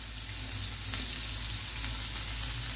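Two medium chopped onions fry with cumin in a pan, making a steady, even sizzle with faint stirring throughout and no talking.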